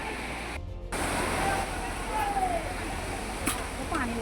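Rushing floodwater in Powai, Mumbai, a steady loud broadband roar of fast-flowing water throughout, with a brief dropout near the start and faint talk beneath it.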